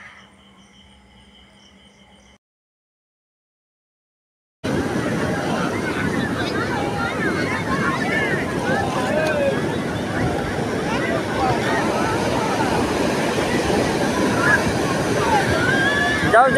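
Sea waves at Puri beach in India, a broad continuous roar of surf washing in, loud and near, with a crowd's babble and voices mixed underneath after a short quiet start.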